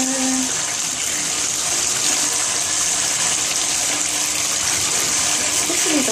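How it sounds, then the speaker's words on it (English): Steady gush of running bath water pours over a LUSH mermaid bath bomb held under the tap, a continuous loud rush filling the whole stretch with a few small splashes near the end. "I'm just gonna run it under the water."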